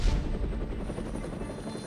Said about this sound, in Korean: 레이저1 헬기는 적군에게 발각될 위험에도 불구하고 대낮에 착륙할 수밖에 없었습니다.